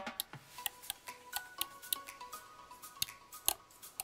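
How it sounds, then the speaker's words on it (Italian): Rotary encoders on a Cammus C5 direct drive wheel base click repeatedly in short, crisp, fairly quiet ticks at an irregular pace, close up with no talking. "Nella parte centrale abbiamo degli encoder rotativi, ve li faccio sentire."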